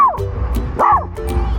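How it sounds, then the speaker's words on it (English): A dog barks in short, sharp bursts, one yip near the start and another louder bark in the middle, close and fairly loud over low background noise. "when in doubt, let's bark it out."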